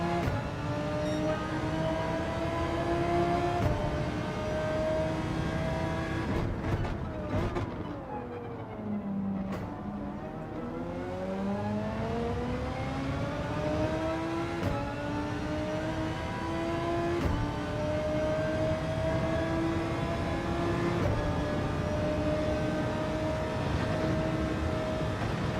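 Race car engine in the Gran Turismo 7 video game, droning steadily as it climbs through the revs, dips sharply on shifts and braking, then pulls hard again, loud and close throughout with no talking.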